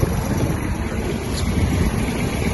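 A Japanese Kubota GB-20 mini tractor drives PTO-powered mower blades, producing a loud, steady, unbroken droning rumble with a wind-like roar throughout.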